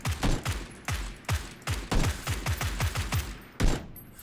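Gunfire from PlayerUnknown's Battlegrounds, with a UMP submachine gun among the weapons: sharp, punchy shots fired in irregular single cracks and quick bursts, close and loud, with brief gaps between volleys.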